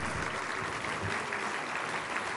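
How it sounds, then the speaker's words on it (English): Quiet, steady applause from a city audience at a State of the City address, dense and even clapping heard at a distance with no voices over it. "Please give Nona and her staff a big round of applause."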